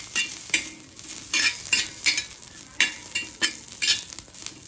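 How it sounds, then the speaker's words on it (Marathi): Garlic and ginger roasting in oil in a pan, stirred in repeated scraping strokes over a soft sizzle, close up, with no voices. "ती थोडीशी आपण भाजून घेऊया, जराशी तेलामध्ये खाली वर करून घेऊया"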